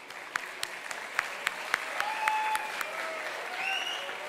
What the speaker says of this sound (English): Audience, let your claps please be going on